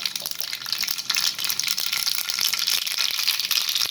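Mustard seeds hit hot oil in a small tempering pan, giving a steady, dense crackling sizzle that stays loud and close for the whole stretch, with no voices.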